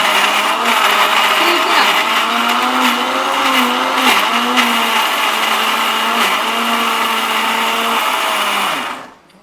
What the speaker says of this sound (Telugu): ఈ మిశ్రమం అంతా మనం మిక్సీలో వేసేసుకోవాలి